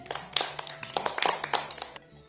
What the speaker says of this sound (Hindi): सबसे पहले हम जोयान के नाम से ताली बजाएंगे